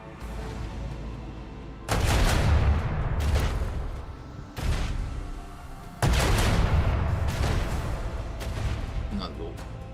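Macro cannons fire from a starship in Warhammer 40000: Rogue Trader, several heavy booming volleys that start abruptly, each rumbling for about a second or two before dying away.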